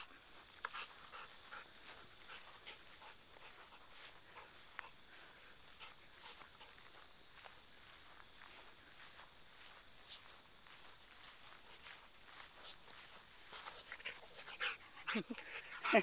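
A dog pants quietly with occasional soft whimpers and shuffling footsteps, growing louder and busier toward the end.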